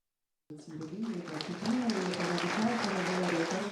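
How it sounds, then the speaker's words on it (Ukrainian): A hometown crowd in Kamianets-Podilskyi gives an ovation to Invictus Games winner Valeriy Udainyk, sustained applause starting abruptly after a moment of silence, with a voice talking over it. "Оваціями переможця ігор нескорених Валерія Удайника зустрічають у рідному Кам'янці-Подільському."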